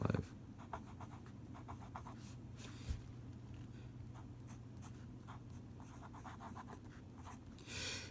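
A Pilot Parallel 1.5mm pen scratches across paper in short bursts of close, faint strokes, with low steady room hum beneath and brief pauses between words.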